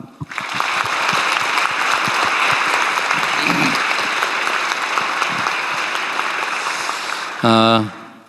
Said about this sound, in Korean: 우리 대한민국 국민과 함께 박수로 환영합니다.